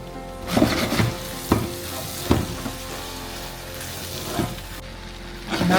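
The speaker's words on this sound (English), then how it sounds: "Now we open the lid and stir up for 1 to 2 minutes" Chicken curry with salt, turmeric, chili, cumin, coriander and meat masala sizzles in a pot, with several distinct spoon scrapes and knocks at intervals over a steady frying hiss.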